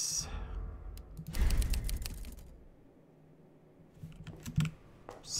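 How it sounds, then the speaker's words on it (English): Typewriter keys clack in quick bursts in the Resident Evil 2 Remake video game, a cluster of sharp clicks with a thud, then a few more scattered taps, quiet and close, with faint talk and game ambience around. "Okay, typewriter, please."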